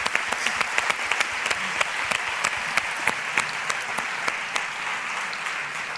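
An audience at a fashion event gives sustained applause, a dense, steady wash of clapping with sharp individual claps standing out near the listener, going on without a break and tapering slightly toward the end.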